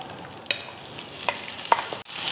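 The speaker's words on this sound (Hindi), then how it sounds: "इसमें ऑयल डाल देंगे तकरीबन 1/2 कप और इसमें ऐड कर देंगे प्याज।" Onions frying in roughly half a cup of oil in a pot for a degi chicken achar gosht: a steady sizzle with occasional sharp pops and spatters, and a louder hiss building near the end.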